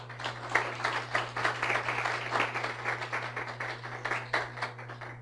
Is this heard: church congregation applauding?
yes